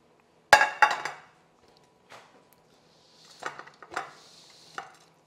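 A metal baking pan is pulled out and set down in a kitchen, giving a few sharp clanks and clatters, then softer scraping and knocks after a pause.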